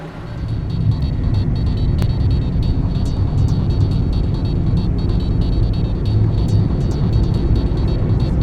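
A car drives along a fishing town road in Aomori with a steady, loud interior rumble of engine and tyres that holds constant throughout, with no one speaking.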